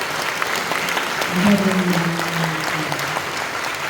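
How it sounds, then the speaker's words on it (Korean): Warm applause from a church seminar audience welcoming visiting elders and a pastor, a steady wash of clapping throughout, with a brief spoken thank-you heard over it midway. "일어나시면 박수로 한번 환영해 드릴까요?"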